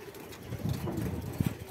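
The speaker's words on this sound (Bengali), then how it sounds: "এখন ঝাঁক ঝাঁক কবুতর আছে" Pigeons in a flock cooing briefly nearby, soft low throaty coos with a few short fluttery bursts, faint and over quickly.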